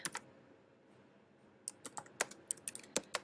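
Typing on a computer keyboard, close and quiet: a few clicks at the start, a pause, then a quick irregular run of keystrokes, no talk.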